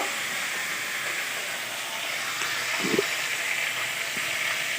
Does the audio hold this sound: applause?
no